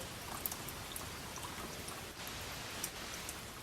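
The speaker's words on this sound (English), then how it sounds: "my tank's almost filled up with just fresh water" Fresh water pouring into the tank of a Thetford Porta Potti Curve portable toilet, a steady close splashing rush with small drips and gurgles throughout.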